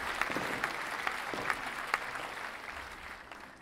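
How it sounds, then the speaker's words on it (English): Applause emote from a video game, a steady burst of crowd-style clapping with a few sharper claps standing out, moderately loud and heard alone without talk. "Here's an applause for fireworks from tier 5."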